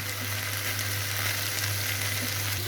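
Steady, loud sizzling of frying in a pan while khichuri is cooked, a continuous close crackle over a low hum, with no talking.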